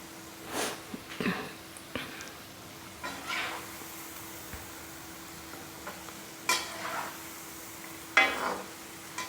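Sweet jaggery-and-wheat-flour puas frying in hot oil are stirred and turned, giving intermittent scraping and bubbling sizzle in short bursts over a steady faint background hum, with no talking.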